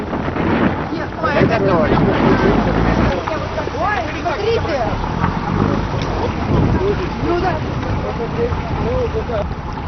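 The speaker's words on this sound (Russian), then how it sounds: "Вы посмотрите, как э, начало задувать. Все идет по плану, вовремя ветер пошел." Wind gusts roar and buffet the microphone with a heavy low rumble, while several people talk excitedly over it.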